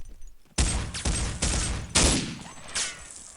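Battle gunfire in the Day of Defeat video game on the dod_solitude map, a rapid series of four or five loud, close shots and bursts in quick succession, each with a short trailing echo.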